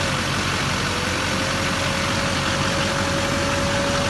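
A truck engine idles steadily with the vehicle running, a constant low rumble and broadband hum with a faint steady tone, near and unbroken throughout.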